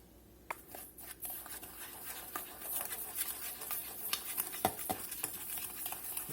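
Spoon stirring a dry seasoning blend of onion powder, garlic powder, sugar and adobo in a bowl, soft scraping and tapping strokes, close and quiet with no talk.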